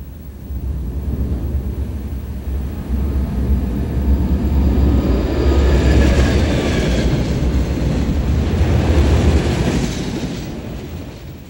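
A freight train rolls past at Rondout, Illinois, a steady loud low rumble with wheel noise swelling and easing over several seconds, close by and alone with no voices.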